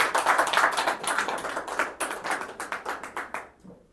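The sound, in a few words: applause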